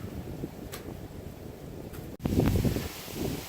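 Gusty wind buffeting the microphone outdoors beside a 2014 Acura MDX, a low rumble that surges louder after a short dropout, with a couple of faint ticks.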